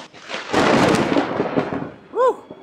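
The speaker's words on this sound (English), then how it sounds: "That was a loud thunder." A loud, close rumble of thunder rolls for over a second and fades, followed by a short high-pitched whistle or squeak.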